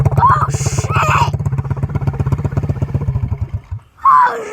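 A 125 dirt bike engine running with its exhaust come off, giving a loud, rapid, raw popping putter that runs steadily for several seconds, then cuts out briefly before a short burst of revving, with voices shouting over it.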